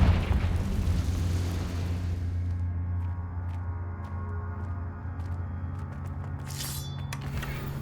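A Confringo fire spell explodes in the Hogwarts Legacy video game, a loud rumbling blast that roars at the start and fades into a long low decay with a few faint clicks and a brief sparkling burst near the end.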